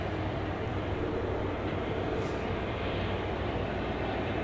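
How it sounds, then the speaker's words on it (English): An American Airlines airliner bound for Brisbane rolls for takeoff at DFW Airport at night, heard as a steady, distant broadband engine roar that holds constant without voices. "We do now have American Flight 7 to Brisbane lined up for takeoff."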